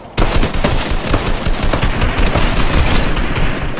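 Sustained automatic gunfire in a Fortnite squads match, a dense rapid rattle of shots that continues without pause, loud and close, with no voices over it.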